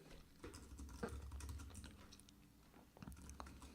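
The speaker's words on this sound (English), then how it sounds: "So what we do is we type into Google" Quiet typing on a computer keyboard, a steady run of soft clicking keystrokes alone and close by.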